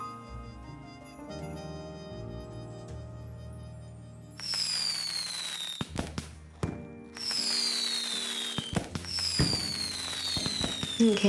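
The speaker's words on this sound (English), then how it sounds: "Okay, we got some fireworks on the go here." Fireworks at the New Year festival in the video game Coral Island go off as several loud bursts with bright whistling streaks and crackles, separated by short lulls.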